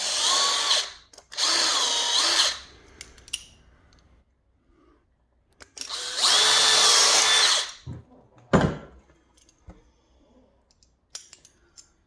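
A power drill reaming out screw holes in a 1983 Fender USA Jazz Bass whirs in several bursts, two short ones then a longer run, separated by quiet pauses with scattered clicks and a sharp knock.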